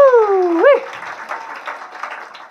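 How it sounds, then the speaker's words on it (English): An audience at a psychic entertainment show applauds a volunteer, with light scattered clapping following a brief loud voice at the start and fading under the room noise. "Give him a round of applause"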